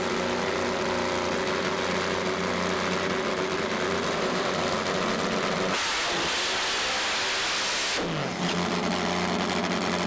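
Top Fuel drag bike with a supercharged engine roars loudly and continuously, its sound briefly breaking into a hissing rush midway before the throbbing engine note returns.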